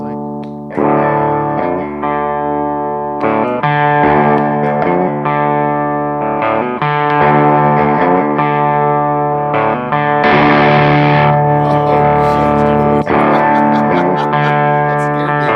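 Electric guitar through a Charlie Paolo Custom Effects fuzz or overdrive pedal with drive off and volume and tone fully up, loud sustained chords and notes with a bright, gritty edge, played in phrases with brief breaks.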